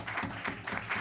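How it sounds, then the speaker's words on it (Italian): Audience applause for a group of young performers at a music set, a dense, steady wash of clapping with soft swells, fairly quiet and brief. "facciamo un applauso a questi ragazzi"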